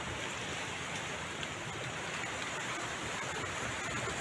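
Heavy rain pours steadily during a fishing trip as the weather turns, a dense unbroken hiss of falling water, close and constant with no talking.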